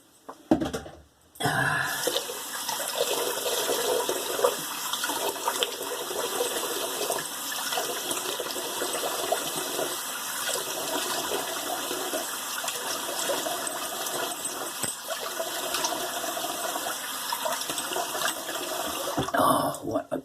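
Water emptied from a shaving bowl into a sink runs as a continuous splashing, gurgling flow for nearly twenty seconds, fairly close and steady, after a short knock at the start.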